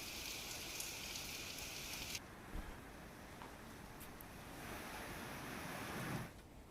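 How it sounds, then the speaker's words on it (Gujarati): Stormy, unseasonal early-morning rain with strong wind in Valsad: a dense, steady hiss of rainfall pours down without pause, rising and falling slightly in loudness, with no voices. "વહેલી સવારથી તોફાની વરસાદ શરૂ થયો"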